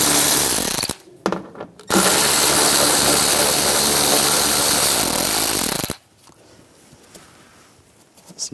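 A power tool fitted with an 8mm socket whirs loudly while removing fender bolts on a Ram 1500 from the 2011-2018 generation, in two bursts: a short one, then a sustained run of about four seconds before stopping to quiet.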